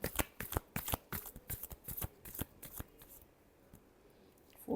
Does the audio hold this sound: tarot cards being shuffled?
yes